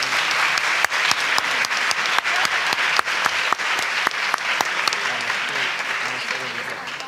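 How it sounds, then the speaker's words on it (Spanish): Sustained applause from an audience in a university lecture hall during an academic conference, dense steady clapping with sharp individual claps standing out, holding loud throughout before easing slightly at the end. "Un aplauso, por favor."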